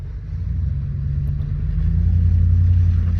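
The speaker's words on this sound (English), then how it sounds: "Taking our trucks up there." Heavy construction trucks climb a snowy mountain road near Mammoth Lakes, California, with gear strapped on and a snowcat hauling a load, giving a steady low engine rumble that swells slightly louder partway through, with no talking.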